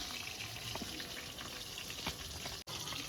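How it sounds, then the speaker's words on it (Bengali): Small whole fish frying in hot oil in a home kitchen, a steady, close crackling sizzle that stays constant, with one brief drop-out near the end. "আমার তেল গরম হয়ে গেছে মাছ কটা ভেজে নিচ্ছি"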